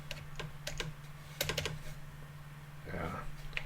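Keys clack in irregular bursts on a Commodore C64 Ultimate keyboard with a flex-cable fault, close-up and moderately loud, with a low hum running underneath.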